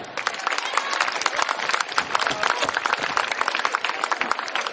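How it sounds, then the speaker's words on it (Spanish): An audience at a peace-themed school event applauds a speaker from a peace council. The clapping is dense and steady, a loud, sustained crowd applause with no gaps throughout. "Un fuerte aplauso para él."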